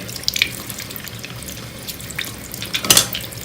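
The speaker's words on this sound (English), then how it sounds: "I make sure I re-scrub them to get all the soap out of it" Tap water runs into a sink while crystals are rinsed and scrubbed clean of soap, a steady close splash with brief louder gushes and clinks near the end.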